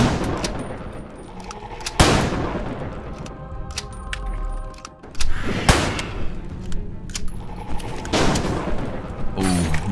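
Gunfire during a Falsepine video game boss fight: several loud shots and booming cracks spaced a few seconds apart, with battle noise and sustained clatter between them.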